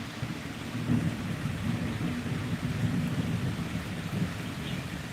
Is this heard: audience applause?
no